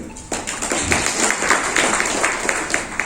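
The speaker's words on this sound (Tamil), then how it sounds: "ஒரு கைத்தட்டு." An audience claps together at a brand launch event for Pro Nutra Kids and Ani, a dense, steady patter of many hands that stays close and fairly loud for a few seconds.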